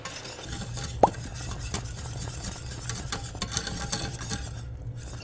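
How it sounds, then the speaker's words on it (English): A whisk clinks and scrapes steadily against a pot of boiling caramel sauce, with a soft bubbling simmer underneath and one sharp metallic tap early on. "now I'll slowly whisk while it's boiling for about a minute"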